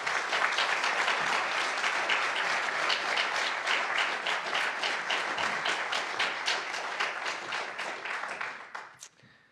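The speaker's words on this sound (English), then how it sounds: "So please give a loud round of applause for Assemblyman Jonathan Jacobson." Audience applause for Assemblyman Jonathan Jacobson at a lead pipe replacement announcement in Poughkeepsie, sustained dense clapping from a crowd that holds steady for most of the span and then tapers off at the end.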